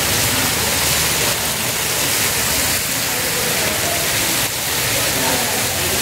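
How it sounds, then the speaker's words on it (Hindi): Water pouring from an umbrella-shaped fountain called Bin Badal Barsat in Saheliyon ki Bari garden, Udaipur, making a steady, dense rush like heavy rain, loud and continuous throughout, with faint voices in the background. "छतरी के अंदर से जो पानी निकलता है, एक बरसात जैसी आवाज़ आती है, हैवी बरसात"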